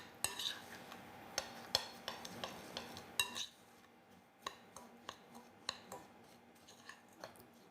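Spoon scraping and clinking against a bowl while melted butter is stirred into chocolate tart crust crumbs, a steady run of sharp close taps and scrapes with no talking.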